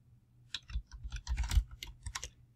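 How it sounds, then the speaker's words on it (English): Short bursts of keystrokes on a computer keyboard while a comment is entered in PowerPoint, quick irregular clicks close up with brief pauses, no voices. "So I'm just going to type that in."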